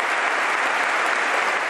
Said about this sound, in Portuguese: Uma aula magna repleta e de pé dá ao professor um forte e longo aplauso.